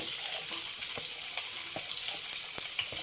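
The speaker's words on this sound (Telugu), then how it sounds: "ఒకే ఒక డ్రాప్ ఆయిల్ వేసుకున్నాం. వేగిని ఉల్లిపాయలు వేసుకుందాం." Onions fry in a drop of hot oil, a continuous close hissing sizzle with occasional small pops and crackles, steady throughout and without any talking.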